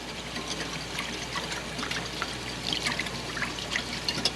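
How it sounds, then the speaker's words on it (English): Vegetable oil streams slowly into a Cobb salad dressing while it is whisked, making a soft continuous trickle with light clinking whisk strokes, close and quiet. "we're going to add in our vegetable oil. We're going to continue to whisk and we're going to stream it in kind of slowly"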